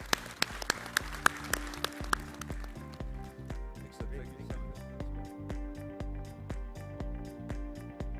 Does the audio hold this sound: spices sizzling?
no